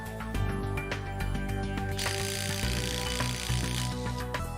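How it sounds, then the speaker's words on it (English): An impact driver tightens shear bolts on a terminal connector in rapid hammering bursts, with clattery metallic rattles that stop and start over a few seconds. "you can use an impact driver or socket wrench. For the purpose of this video, we will use an impact driver. Tighten bolts until the bolts shear off."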